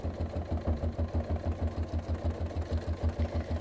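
Domestic sewing machine stitching steadily during free motion quilting bobbin work with thick thread, a close, even, fast mechanical rhythm running continuously without talk.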